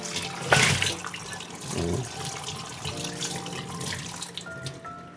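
A kitchen tap runs steadily while dishes are washed, giving a continuous splashing and trickling stream at close range. Brief clinks and knocks sound through it, and faint voices are audible in the background.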